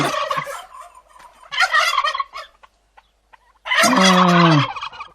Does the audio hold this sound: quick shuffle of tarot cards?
no